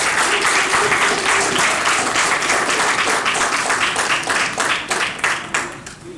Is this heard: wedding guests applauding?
yes